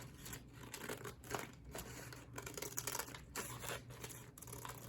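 Scissors snip through a paper doily in a quiet room, a run of faint, close crisp cuts and rustles of paper with no talking.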